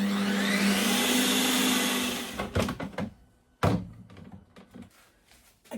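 A Ninja Creami machine spins frozen sorbet in its tub with a loud whirring drone for about two seconds, then cuts off, followed by a few close clunks and knocks as the machine or lid is handled.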